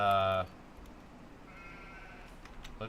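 A sheep in the Farming Simulator 25 video game gives one loud, close bleat, followed by quiet background ambience.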